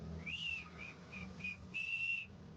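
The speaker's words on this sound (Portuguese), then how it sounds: "eu não sei assobiar totalmente no tom" A person whistles a tune, slightly off pitch, in a short run of clear notes ending on a long held tone, close and fairly soft over a quiet room.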